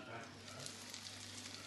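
Steady sizzling of okra frying in a hot pan with onions, a continuous crackling hiss with no talking.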